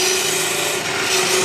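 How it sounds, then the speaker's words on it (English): Sandpaper rubs steadily against a red oak walking staff spinning on a wood lathe, a loud continuous close-up rasping hiss over the lathe's hum with no breaks and no talking. "Sandpaper's the only thing that's gonna get that smooth."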